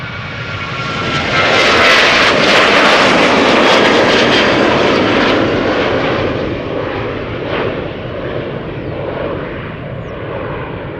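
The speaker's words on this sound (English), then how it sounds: "KLM flight 1269 going to Copenhagen, 23 years old, the 737" A 23-year-old KLM Boeing 737 departs Schiphol for Copenhagen, its jet engines building to a loud, close roar with crackling rumble that peaks early and then holds and slowly fades.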